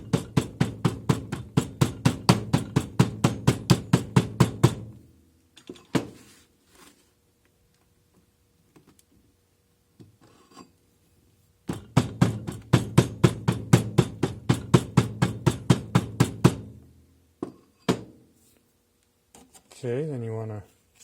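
Hammering that packs red clay casting sand, struck with the end of a mandrel: two bursts of rapid, evenly spaced sharp knocks close up, a pause between them with scattered small taps, and brief talk near the end.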